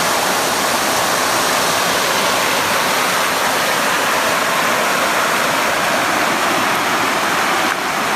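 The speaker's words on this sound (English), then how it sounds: "really still water just suddenly floats over the edge there. It's down a waterfall." A waterfall at McEwan Lake in the Algonquin Highlands, where still lake water spills over a rocky edge, roars in a steady, dense rush that stays loud and close for the whole stretch, with no voices over it.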